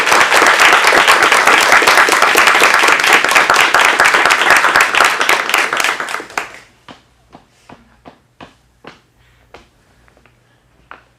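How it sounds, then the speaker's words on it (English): Theater audience at an acting studio showcase breaking into loud, dense applause for about six seconds, then fading into a few scattered individual claps. "I'm just going to ask for a big round of applause to get us started"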